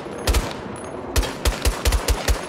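AEK rifle fire in Battlefield 2042: a handful of sharp, bassy single shots and quick doubles, loud and close over a low game ambience.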